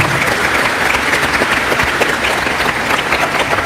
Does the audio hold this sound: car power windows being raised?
no